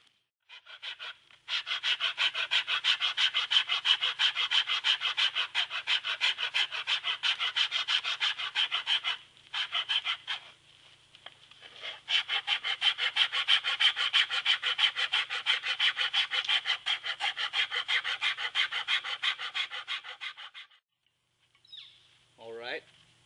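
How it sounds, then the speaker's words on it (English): Scraping a hop hornbeam wooden bow's limbs with a steel tool, a close, steady rasping stroke repeated rapidly in two long runs separated by a short pause. "I've penciled and scraped the limbs quite a few times here now."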